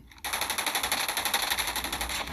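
Rapid automatic gunfire in Call of Duty rattles in a fast, even burst that runs without pause for a couple of seconds, crisp and close.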